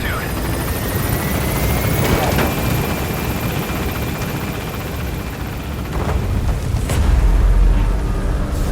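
A helicopter taking off in the video game Metal Gear Solid V, a loud continuous rotor and engine roar with rumbling swells, under radio-style voices talking.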